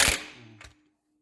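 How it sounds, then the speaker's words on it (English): An impact wrench seats an EMF lower ball joint on a vehicle with a short, sharp rattling burst. A second quick hit follows, then the sound falls silent. "give it a good shot with an impact, and it should spin it up nice and quick"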